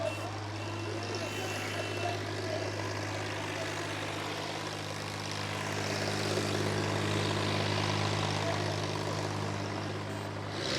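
Massey Ferguson 8055 tractor hauling 20 trolleys loaded with sugarcane, its engine holding a steady low drone at speed, loud and unbroken with a slight swell toward the end.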